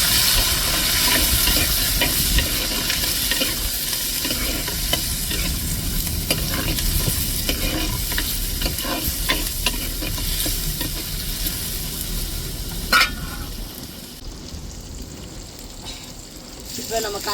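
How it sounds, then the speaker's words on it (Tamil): Tomatoes and chilies sautéing in a pan for a mackerel fish curry, with a steady close sizzle and frying hiss, spoon stirring and scraping throughout, easing off near the end. "இப்போ தக்காளி மிளகாய் சேர்த்து வதக்கி வச்சுக்கணும்"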